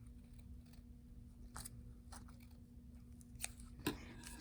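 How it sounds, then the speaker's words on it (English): Fabric shears snipping around a paper pattern on cloth: a few faint, crisp, widely spaced cuts followed by a quick pair of closer, sharper snips, over a quiet room with a steady low hum. "use your fabric shears just to start to cut around it like this"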